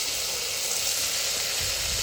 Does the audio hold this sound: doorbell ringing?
no